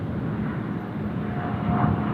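A China Eastern airliner taking off from Sydney Airport, bound for Shanghai: a loud, continuous jet engine roar that stays steady and rises slightly toward the end.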